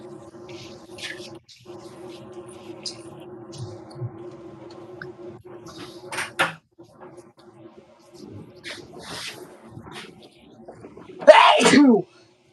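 A single loud, sharp sneeze near the end, following quieter indoor sounds with brief bursts of talking.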